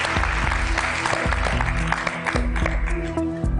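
A television game show studio audience applauds an actress named Nanka. The clapping is steady and moderately loud and continues under bright, rhythmic show music.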